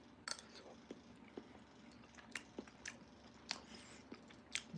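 Close, quiet biting and chewing of a fried Costco egg, soft squishy mouth sounds with a few sharper bites over faint room noise.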